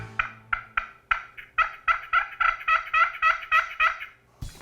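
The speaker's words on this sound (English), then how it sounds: "It's a push pin Pro Yelper from Quaker Boy." A Quaker Boy push pin Pro Yelper turkey call yelps in a series of about a dozen sharp, rhythmic notes, close and clear, speeding into a run of evenly spaced yelps, alone without talk.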